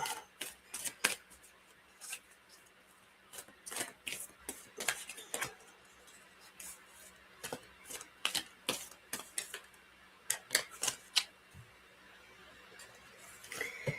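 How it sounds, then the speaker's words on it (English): Dry, crisp tarot card riffles and snaps come in irregular bursts against a quiet background, some in rapid clusters, others isolated. "this one's always so hard to shuffle"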